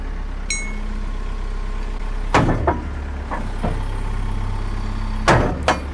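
Steady low engine drone from an abandoned digger running, with a few sharp clanks and hydraulic knocks as the machine starts to move.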